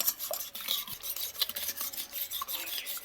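Mashed ripe mango mixture with red food colour is stirred by hand in a bowl, giving a quiet, steady rasping scrape that repeats in short strokes with faint clinks.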